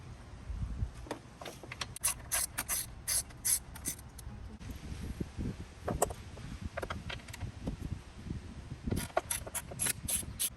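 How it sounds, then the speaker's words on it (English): Ratchet on an extension bar loosening 11 mm bolts and nuts on a BMW 335i N54 during starter replacement, with repeated bursts of fast clicking ratchet strokes, close and moderately loud, with no talking. "So I'm going to start removing these 7 bolts all the way across."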